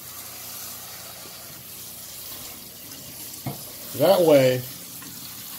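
Cold water pours steadily over cooked vegetables sitting in a kitchen strainer, making a continuous close hiss, with a short spoken phrase partway through.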